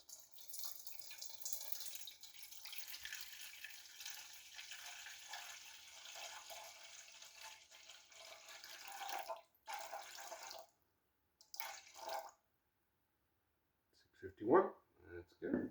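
Water poured into a mixing bowl with flour for bread dough, 650 grams of tap water, makes a continuous hissing splash for about ten seconds, then brief trickles and a few soft clinks near the end.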